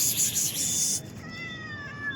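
Kittens on a roadside meowing, a couple of thin high-pitched mews close by over a steady hiss of background noise.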